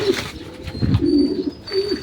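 A bird coos softly and repeatedly nearby, low rounded calls in a short series against light background noise.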